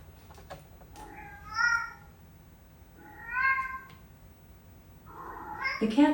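An Alexa Echo smart speaker plays two clear, drawn-out cat meows about two seconds apart. A third, rougher meow-like sound closes the sequence in a quiet indoor space.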